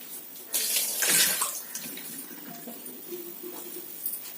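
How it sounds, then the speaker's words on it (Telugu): Water draining off washed bitter gourd pieces, a rushing pour that swells in the first half and then thins to light trickling and dripping, close and without speech. "వాటర్ అయితే తీసేద్దాం."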